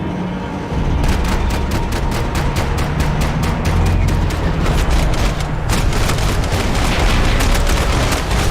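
Sustained gunfire in the video game Max Payne 3: dense, rapid bursts of automatic shots and heavy booms, loud and continuous for several seconds.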